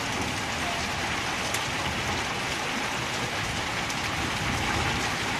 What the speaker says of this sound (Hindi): ये देखिए आप बारिश लग चुकी है